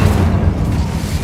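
The Incendio fire spell is cast in Hogwarts Legacy, producing a loud, deep whooshing boom that rumbles heavily for just over a second.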